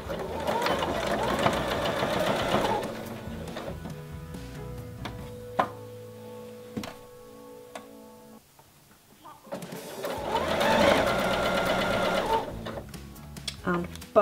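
Sewing machine stitching the hem of a baby onesie: a loud, close run of rapid stitching, a quieter stretch with a steady motor hum and scattered clicks, then a second strong burst of stitching.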